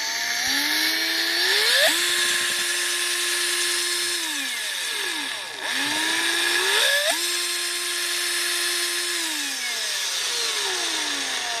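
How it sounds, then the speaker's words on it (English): Power drill driving a one-cylinder engine built from K'nex, whining up to speed twice with steady high-pitched running and plastic clatter, close and loud. "So I'm going to open this drill up all the way."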